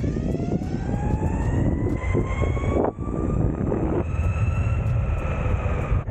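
VERREAL RS electric skateboard accelerating: a rising motor whine climbing steadily in pitch over loud rolling wheel rumble, with no talking.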